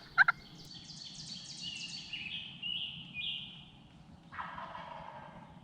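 Wild turkeys gobble during a Pennsylvania spring hunt in a few rolling, rattling calls at moderate distance, with some sharp clucks, over a low outdoor rumble.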